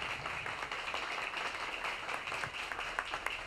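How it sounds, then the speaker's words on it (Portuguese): A crowd at a public rally in Niterói applauds the arriving mayor; steady, fairly faint clapping carries on throughout at a distance with no speech on top. "Felipe Peixoto, uma salva de palmas do nosso prefeito."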